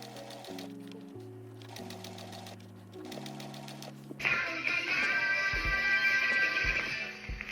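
A sewing machine runs steadily as it stitches the front and back fabric pieces together at the shoulder seams, a loud, close, continuous motor whir with a rapid needle rhythm that grows stronger and denser in the second half.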